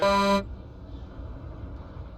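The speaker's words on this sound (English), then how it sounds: "Why is somebody honking at me?" A truck horn in American Truck Simulator blares one steady, loud toot for under half a second, then cuts off, leaving low road and engine rumble.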